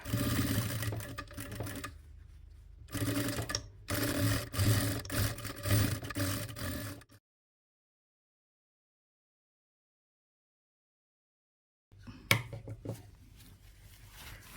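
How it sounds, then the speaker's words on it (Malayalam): A sewing machine stitching elastic onto a child's umbrella skirt whirs in loud, close bursts for about seven seconds. Several seconds of silence follow, then a shorter run of stitching resumes. "രണ്ടും ഇതാ ഇതുപോലെ ഒന്നിൻ്റെ മുകളിലേക്ക് ഒന്ന് വെച്ചു കൊടുത്തിട്ട് നന്നായി ഒരു മൂന്നാല് പ്രാവശ്യം ഒന്ന് അടിച്ചെടുക്കുക"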